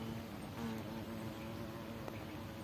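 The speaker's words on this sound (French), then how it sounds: "Ça butine dur dessus et c'est que du frelon asiatique." Asian hornets forage on autumn flowers with a faint, steady droning buzz, several insects humming together at a distance with no voices.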